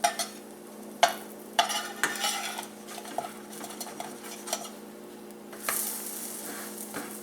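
A curly dock pancake cooks in a pan with a soft, low sizzle, broken by several clinks and scrapes of a utensil against the pan, fairly quiet and close, with no voices.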